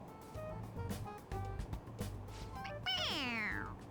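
A stuffed toy cat in Persona 5 Royal gives a couple of short meows when pressed on the head, with a longer, louder meow near the end, set over quiet game background sound.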